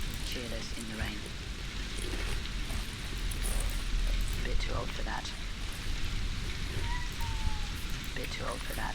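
Steady rain falls in a video game scene, an even hiss of drops that continues throughout, with someone talking over it now and then.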